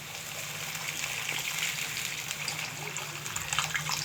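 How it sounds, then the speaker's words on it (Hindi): About 150 ml of water is poured into a cooking chicken kofta mixture, making a continuous splashing gush that stays steady and close throughout. "हम इसमें डालेंगे 150 ml पानी।"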